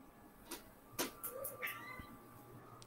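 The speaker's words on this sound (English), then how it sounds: "That cat is calling you." An indoor cat meowing to be let outside, a few short, faint meows spread across a quiet room with small knocks and clicks nearby.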